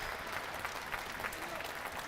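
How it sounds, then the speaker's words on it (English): Applause fills an arena at a college basketball game between Yeshiva and Amherst as an injured player gets up, a steady wash of clapping from the crowd heard at a distance. "He'll get up and receive an applause"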